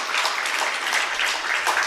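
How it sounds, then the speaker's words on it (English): Audience applause at a Bangalore Ladies Chapter book release event, a dense steady wash of many hands clapping at once, sustained evenly for the whole stretch without a break. "May I have a big round of applause for the outstanding Bangalore Ladies Chapter"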